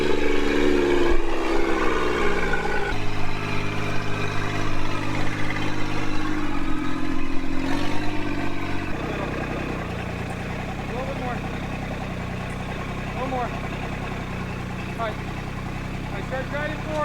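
A Yanmar tractor fitted with a rear tiller runs steadily close by, its engine droning with a continuous low hum, louder in the first half and then settling into a slightly quieter idle.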